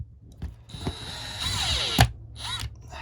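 A power drill drives screws into drywall mounted on insulated electrical box flanges, a few short whirring bursts with a rising whine, close and moderately loud, ending in a brief sharp clack.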